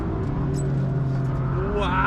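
A BMW M3 race car on the Nürburgring holds a steady engine drone while braking hard, then the revs rise at the end as it accelerates, with a voice talking over it.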